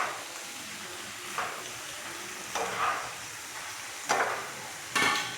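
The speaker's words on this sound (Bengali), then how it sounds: "এটা আমি নাড়াচাড়া করে কিছুক্ষণ জলটা শুকিয়ে নিই" Pasta being stirred in a hot pan to cook off the water, a steady sizzle and hiss with occasional scraping stirs every second or so, close and moderately loud.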